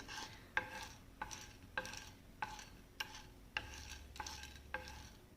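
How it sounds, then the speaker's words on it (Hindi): A spoon stirs and scrapes dry ingredients roasting in a pan for a home cough remedy, about eight evenly spaced scraping strokes with a faint sizzle underneath, close and fairly quiet. "थोड़ा सा हम इसे चलाते हुए भून लेंगे"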